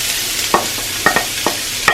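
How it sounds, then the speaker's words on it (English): Onions fry and sizzle in oil in a pan, with a handful of sharp, clattering stirs landing about every half second over a steady hiss. "So we're going to just add the onions,"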